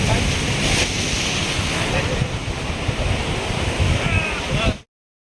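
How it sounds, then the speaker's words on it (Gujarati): Sea waves and strong wind at Shivrajpur beach near Dwarka, Gujarat: a steady, loud roar of surf with gusty wind buffeting the microphone, continuous for about five seconds before cutting off. "કારણ કે પવન એવો ઠંડો આવે છે અને મોજા એવા આવે છે"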